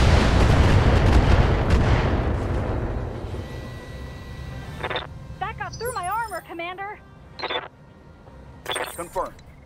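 Heavy mech weapons fire off in Battletech as a deep booming blast that rumbles and fades, followed by a synthetic voice speaking over faint background sound.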